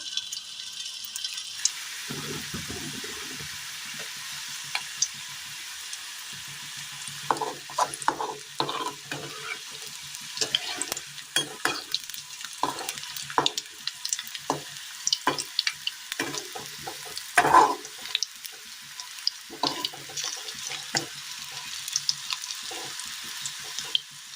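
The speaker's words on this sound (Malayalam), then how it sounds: "സ്പൂണിന് കോരി നമുക്ക് എണ്ണയിലേക്ക് ഇട്ട് കൊടുക്കാം" Spoonfuls of snack batter dropped into hot oil, frying with a steady broadband sizzle and scattered bursts of crackle and spatter as the pieces cook, close and continuous with no talking.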